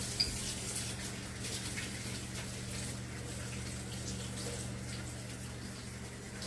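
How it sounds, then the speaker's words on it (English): Running water pours steadily into a kitchen sink during hand washing, a constant wash of splashing with faint clinks, no voices. "so I'm actually going to wash my hands"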